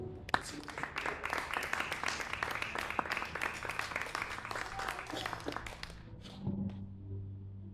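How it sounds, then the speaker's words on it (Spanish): Congregation applause during a Spanish-language Christian sermon, dense sustained clapping from the audience that swells, holds, then thins out and fades near the end, heard at a moderate distance. "Bríndele un aplauso al Señor."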